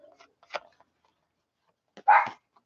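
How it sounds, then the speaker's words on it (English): A dog indoors barks a few times at an empty house: scattered soft yips, then one louder bark after a pause, fairly close, with quiet between. "I don't know why she's barking."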